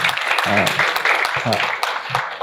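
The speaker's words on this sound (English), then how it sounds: "a big round of applause again for them" Audience at an environmental awards panel discussion on technology and entrepreneurship applauds the panelists, close lively clapping mixed with voices talking over it throughout.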